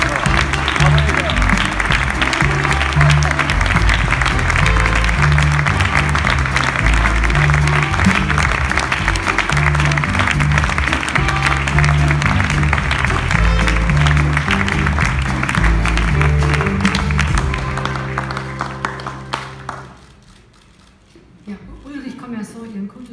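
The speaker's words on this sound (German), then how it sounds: "Applaus." Applause at an award ceremony, following a jury prize announcement, rolls on loudly for about twenty seconds, blended with a thumping rhythmic backing, then drops away abruptly near the end.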